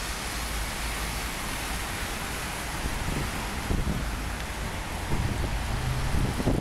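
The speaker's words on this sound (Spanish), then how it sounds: "Está lloviendo en este momento." Steady rain falls outdoors on a street in Stockholm as a constant, fairly faint hiss with no voices.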